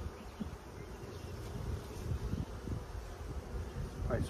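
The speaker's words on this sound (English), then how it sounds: "Lots of bees." Honey bees swarm around an open hive during an inspection of brood and resource frames, producing a steady, dense buzz that fills the whole stretch close to the listener, with no talking.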